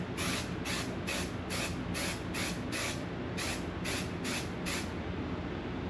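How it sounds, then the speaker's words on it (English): An aerosol can sprays the top part of a tube for a homemade tool that sands fluted wood, in about a dozen short, evenly spaced hissing bursts with brief gaps between them. "you're gonna wanna spray the top part of your tube around the same area, around the same length as the sandpaper"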